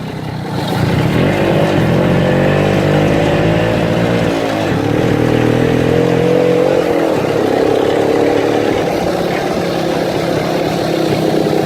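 A moped's small engine drones steadily on a long road trip, loud and close with slight pitch shifts as the throttle changes, running continuously with wind noise and no talk.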